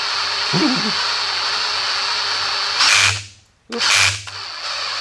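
A power drill whines steadily while working on a 426 Hemi engine, then revs louder in two short bursts separated by a brief pause, close and loud.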